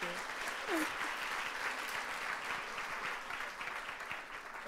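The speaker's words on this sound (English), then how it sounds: "Can we have one more round of applause for the partners, please?" Crowd applause for a partner of the year award at a UK event, a steady, moderately distant round of clapping with a faint voice briefly over it at the start.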